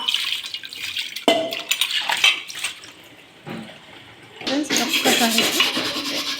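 A blackened dosa pan is scrubbed with soap and water, harsh close-up rubbing and scouring strokes alternating with splashing and running water, loud and uneven with short pauses.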